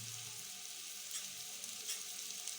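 Panch phoron spices sizzling in hot oil with chopped garlic, a quiet, steady frying hiss with a few brief crackles and no talk.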